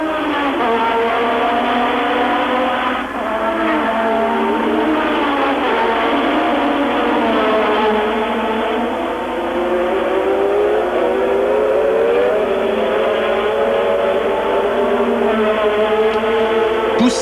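Formula 1 cars racing in 1985 as Prost presses Alboreto: a loud, continuous high-pitched engine whine with rising and falling revs from several cars, heard up close with a narrow, broadcast-like tone.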